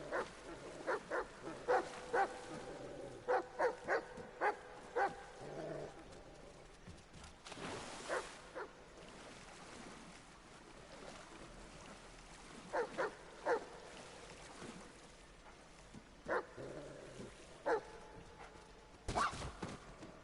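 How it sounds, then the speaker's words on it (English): An angry Great Dane in the Metal Gear Solid Delta: Snake Eater video game barks in short bursts, repeated clusters of faint-to-moderate barks spread over a quiet game soundscape. "That is a Great Dane. That is a freaking Scooby-Doo dog, and it looks angry."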